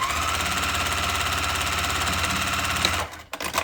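A sewing machine runs steadily at close range, back-stitching and then sewing a 1/4 inch seam across a tote bag, its fast even rattle going on for about three seconds before it stops.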